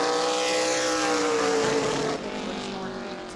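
A super late model race car on a qualifying lap at New Smyrna roars past loud and close, its engine pitch sliding down as it passes and fades.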